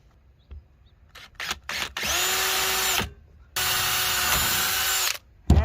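A power drill bores into a DIY dolly hand truck mount in two long, loud whining bursts, each rising to a steady pitch, preceded by a few short trigger blips and separated by a brief pause.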